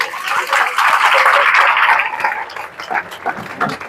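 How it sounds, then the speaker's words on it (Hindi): A crowd at a gathering breaks into a dense burst of applause for the children, loud and close for about two seconds before it thins out under a voice. "ताली बजाओ एक बार इनके लिए।"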